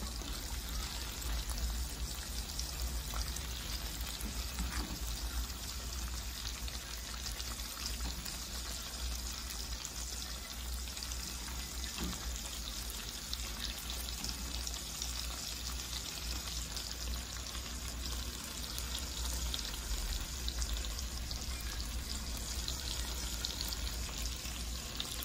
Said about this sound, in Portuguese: Vou colocar esse cebola agora.